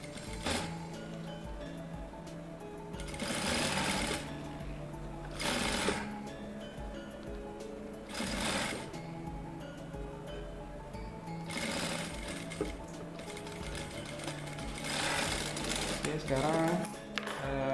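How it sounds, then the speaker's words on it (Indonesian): Sewing machine stitching a shirt collar in repeated short bursts of rapid mechanical clatter, with a person talking between and over the runs. "Nanti kalau sudah nyambung dengan badan, baru kita lanjutkan menjahit muter gitu"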